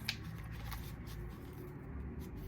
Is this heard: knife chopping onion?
no